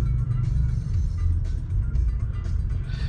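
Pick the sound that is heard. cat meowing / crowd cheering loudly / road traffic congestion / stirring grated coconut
road traffic congestion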